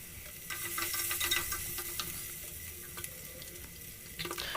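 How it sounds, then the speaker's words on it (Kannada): Oil sizzles steadily in a pan as ingredients fry for a bachelor-style vegetable sambar, a continuous close hiss with scattered crackles and light stirring scrapes throughout, no voices. "ಚೆನ್ನಾಗಿ ಫ್ರೈ ಆಗ್ತಿದೆ"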